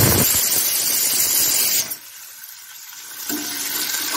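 Tomatoes sauté in a pan with a broad hissing spray, loud at first, dropping to a softer hiss midway, then swelling again near the end.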